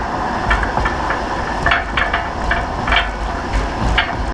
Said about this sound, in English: the GoPro I mounted to it picks up a lot of rattling and clanking sounds